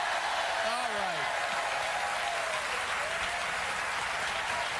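A studio audience on a late-night talk show applauds loudly and continuously, a dense sustained clatter with faint cheering mixed in.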